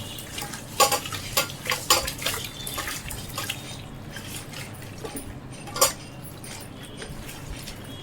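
Chicken tahari biryani being stirred in a pot at home, with scraping spoon strokes, soft wet shuffling and light sizzling at close range, steady and without speech.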